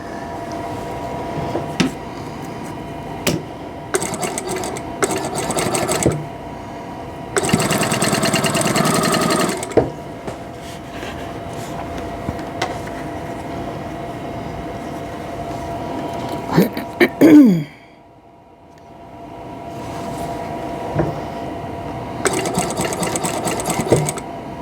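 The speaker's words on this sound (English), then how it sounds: "I'm going to line this up right here and sew this edge." A sewing machine stitches along the edge of a quilt block in several separate runs, whirring steadily and close by, with pauses in between and quiet handling sounds during the gaps.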